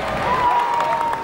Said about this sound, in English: The crowd cheers, their spirits undampened by the light November drizzle